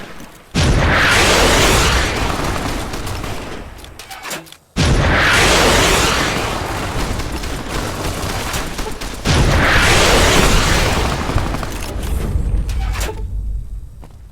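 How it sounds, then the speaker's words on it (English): Missile launcher explosions from the Fallout: New California video game, loud repeated blasts with sustained rumbling debris, three big bursts in a row with brief gaps between them. "kill him with a missile launcher"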